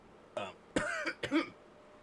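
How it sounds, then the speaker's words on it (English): A sick person coughs hard three times in quick succession, close and loud, followed by silence. "I'm just like coughing really bad and stuff."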